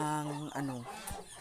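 Chickens cluck softly near their nest on a small backyard farm: a short burst of close, throaty hen calls, followed by a brief pause and a faint squawk.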